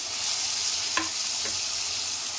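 Tomato pieces in a hot pan for a bitter gourd curry, hissing with a broad, steady sizzle and a couple of brief clinks as they are stirred, moderately quiet and with no voices.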